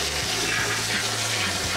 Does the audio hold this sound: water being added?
yes